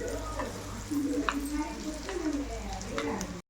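Boiled egg pieces sizzle steadily in a pan with salt and chili powder, a continuous close frying hiss with light stirring scrapes, a voice talking over it.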